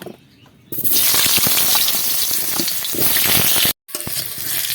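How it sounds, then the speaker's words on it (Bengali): Cut potatoes frying in white oil in a wok, starting with a quiet moment before a loud, steady sizzle bursts in and crackles continuously, briefly cut by a short silence near the end. "এই কেটে রাখা আলুগুলোকে ভেজে নেব"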